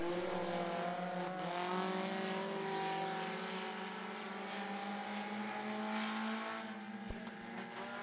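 Front-wheel drive race cars at a short-track heat race on I-75 Raceway roar past in a loud, sustained engine drone on the final lap, a continuous wall of revving sound with no talking.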